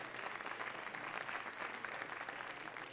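Dense, steady applause from a large church conference congregation clapping in praise during a worship session, continuous and fairly loud for the whole stretch with no voices over it.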